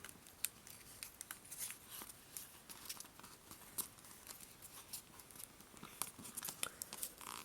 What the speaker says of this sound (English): Then we're going to fold the edges into the middle. And then petal fold them.